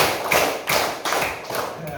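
Several hand claps rhythmically repeated in a primary school classroom clap game, a bright, close and steady pattern of claps running through the whole moment.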